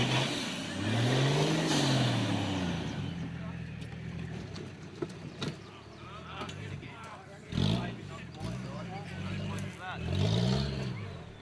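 A 4x4 truck engine revs up and down in several rising and falling surges as it climbs out of a dry, dusty creek bed at a winch challenge event, close and loud, with brief clunks and a voice speaking in between.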